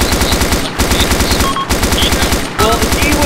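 Rapid automatic gunfire from the military shooter game Arma 2, loud, close and continuous in dense bursts, broken by a few very brief pauses.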